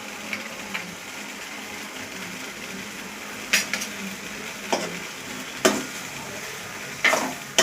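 Veg Manchurian fries in a pan over a low flame, a soft, steady sizzle broken by several sharp, brief scrapes and clatters as it is stirred, heard close with no talk.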